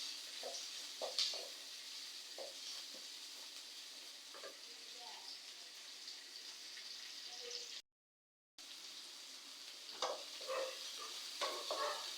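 Steady frying sizzle of chopped onions added to hot oil with fennel seeds, occasional stirring clicks and scrapes, moderately close, briefly cut to silence midway.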